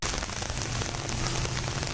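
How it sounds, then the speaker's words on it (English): Heavy rain pours down steadily in New Orleans, a dense, unbroken roar of drops pattering on surfaces with no voices over it. "So a lot of noise with that rain."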